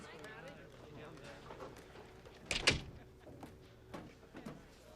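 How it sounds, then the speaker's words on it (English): An office door swings shut in a film scene, landing as one sharp, close thud midway through, with quieter knocks afterward and voices speaking around it. "Close the door."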